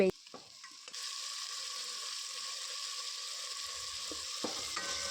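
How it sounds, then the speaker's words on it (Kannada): Tomatoes hit a hot pan with a sudden burst of sizzling that settles into a steady, bright frying hiss, with a few clinks of a utensil near the start and end. "ಅದೆಲ್ಲ ನೀಟಾಗಿ ಫ್ರೈ ಆದಮೇಲೆ ಟೊಮೊಟೊನೂ ಹಾಕ್ಕೊಂಡು ಚೆನ್ನಾಗಿ ಮೆತ್ತಗಾಗೋವರೆಗೂ"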